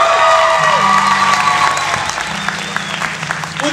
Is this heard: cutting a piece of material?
no